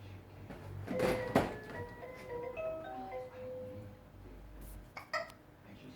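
A baby gives a few short, sharp hiccups close by, the strongest near the start, over faint background hum and soft household sounds.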